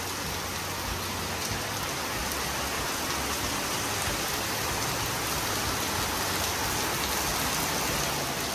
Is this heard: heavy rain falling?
yes